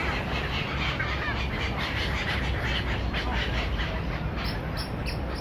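Birds and ducks call across Hyde Park, London, a continuous busy chorus of quacks and chirps mixed into broad outdoor noise, fairly distant and steady.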